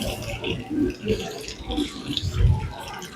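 Hot mineral spring water running from a tap at the Karlovy Vary colonnade, a steady near splashing trickle with a faint voice in the background.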